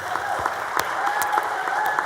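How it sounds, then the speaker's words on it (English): Audience members in the Texas Senate chamber give a brief burst of steady applause, a dense patter of clapping lasting about two seconds with faint crowd murmur underneath. "Y'all should clap for her."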